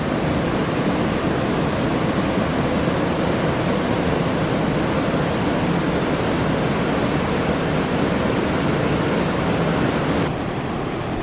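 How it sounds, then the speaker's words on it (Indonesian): River rapids on the Landak River rush loudly and steadily, a dense, unbroken roar of churning water heard from the middle of the rapids, with no voices. "tepat di tengah sungai, tengah riamnya"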